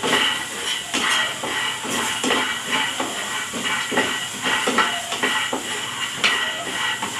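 Peanuts dry-roasting in a pan for chutney, a steady hiss overlaid with rhythmic scraping and rattling as they are stirred, close and fairly loud.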